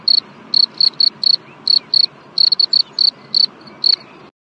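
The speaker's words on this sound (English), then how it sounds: "The cricket chirps rhythmically on a warm night." A cricket chirps rhythmically on a warm night, with short, high, pulsed trills repeating roughly twice a second over a faint background hiss, close and clear with no voices.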